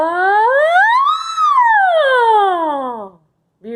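A singer in a Parkinson's singing and dance session glides the voice up and then down in one smooth sustained 'ah', imitating a siren. The tone is loud and close, ends abruptly, then another note starts.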